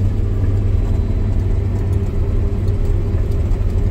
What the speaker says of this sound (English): I'm going to put the tractor in gear again.